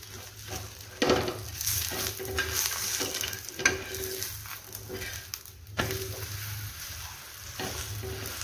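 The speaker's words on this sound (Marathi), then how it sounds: "एका बाजूने छान भाजले, आता दोन्ही बाजू छान भाजून घेणार" Colocasia leaves fry in a pan with a continuous close sizzle, broken by several louder knocks and scrapes of stirring and turning, no one speaking.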